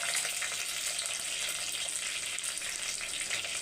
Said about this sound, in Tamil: இப்போ கடுகு பொரியுது, கருவேப்பிலை போட்டுக்கலாம்.